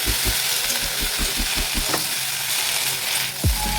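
Note shaak greens dry-roast in a kadai over a gas flame with no oil, a steady close hiss and sizzle with a run of quick rhythmic stirring scrapes early on and a few sharp metallic clinks.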